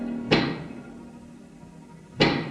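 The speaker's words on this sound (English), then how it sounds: "Casey, do you hear that knocking?" Two sharp, heavy knocks land about two seconds apart in a noir radio drama, each a loud close thud with a short ringing tail over a quiet low hum.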